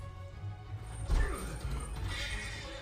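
A horse whinnies with a shaky, drawn-out call over a low rumble, followed by some clattering noises, in the anime Vinland Saga season 2, episode 14.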